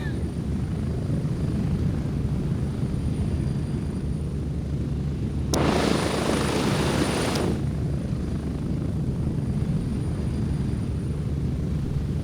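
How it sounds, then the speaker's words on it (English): A helicopter flies in a military shooter video game, its constant rotor drone steady and prominent throughout, with a short burst of louder hiss in the middle. "Come on, get on the fucking chopper."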